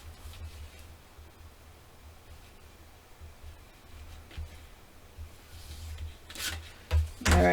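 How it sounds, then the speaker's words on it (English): A bone folder burnishes the folded paper hinges of a scrapbook mini album, making soft continuous rubbing and faint rasping close by, with a couple of louder knocks near the end and no talk. "take the edge of my bone folder and burnish"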